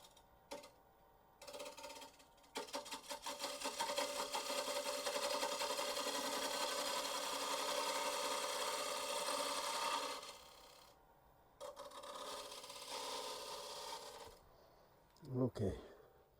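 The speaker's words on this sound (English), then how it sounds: "So I'm going to do that with a spindle gauge." A 1/2 inch spindle gouge cutting a wooden piece spinning on a lathe, a continuous whirring scrape that holds for several seconds, pauses, then resumes more briefly with a faint voice near the end.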